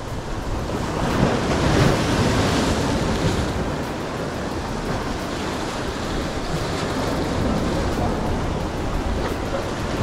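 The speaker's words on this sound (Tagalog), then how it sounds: "Kaso lang yung alon. Hindi nakisama, masyado malakas." Strong ocean waves in rough seas after powerful storms surge and crash continuously, a dense roaring wash with wind noise buffeting the microphone and no voices.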